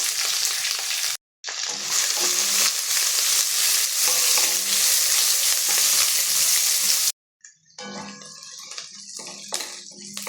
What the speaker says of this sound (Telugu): ఇప్పుడు పచ్చిమిర్చి ఆనియన్ కూడా వేసేసుకొని ఉల్లిపాయ ముక్కలు వేసుకొని కొంచెం వేయించుకున్నాము